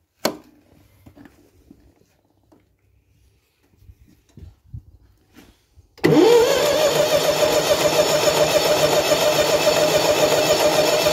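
A Gardner 4LW marine diesel engine, under repair after fuel-system priming, cranks and catches after a few quiet knocks, then settles into a loud, steady, close running clatter.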